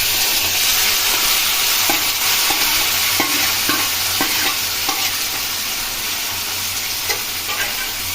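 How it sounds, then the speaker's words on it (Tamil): Onion, tomato, curry leaves and green chilies sauté in a pan for a mushroom gravy, a loud, dense sizzle with intermittent spatula scrapes and stirs up close. "இப்போ இதில் நம்ம போட போறது ஆனியன், டொமேட்டோ, கருவேப்பிலை, தென் வந்து பச்சை மிளகா போடுறோம்."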